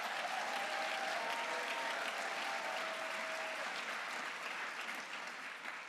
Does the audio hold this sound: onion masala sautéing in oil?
no